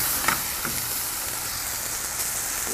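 Sea bass sauce simmering and reducing in a pan gives a steady, fairly quiet broadband sizzle with a few faint clicks, running evenly throughout and no one speaking.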